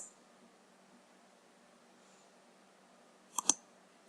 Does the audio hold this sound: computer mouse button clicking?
yes